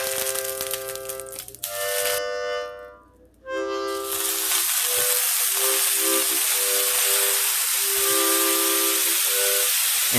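Jackfruit hits hot oil in a 1916 antique iron skillet over medium heat, bursting into a loud, steady sizzling hiss after a short quieter lead-in with some ringing tones.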